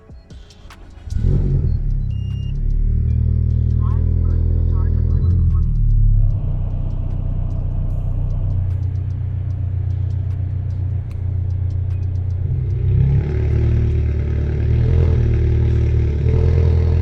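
An HKS-tuned Toyota GT86 engine of over 400 hp starts and settles into a loud, steady rumbling idle, with a rise in revs partway through and constant low growl throughout.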